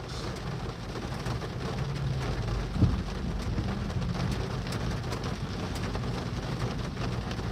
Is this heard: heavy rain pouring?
yes